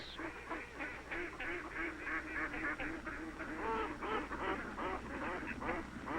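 A flock of ducks quacking and honking repeatedly in a busy, overlapping chorus, moderately distant and steady throughout.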